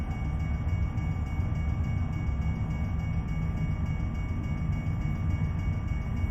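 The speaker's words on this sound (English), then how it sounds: "Some people might want to see the train." A train rumbles past in Euro Truck Simulator 2, a steady heavy low roar with a faint whine that holds evenly throughout with no talk.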